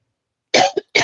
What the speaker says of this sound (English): hang on one second because I'm about to cough